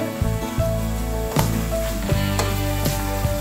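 Pork fillet pieces sizzle and get stirred in a frying pan, a steady frying hiss with a few sharp utensil knocks against the pan, close and loud, no talk.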